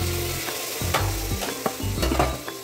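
Potatoes dropped into a hot tadka for aloo matar hiss and sizzle loudly at close range, with repeated scraping stirs and clinks of a spoon against the pan, no voices.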